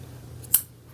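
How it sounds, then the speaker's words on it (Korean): A single quick snip of scissors cutting through yarn for a crocheted beanie, close and crisp against a quiet room hum. "잘라주세요."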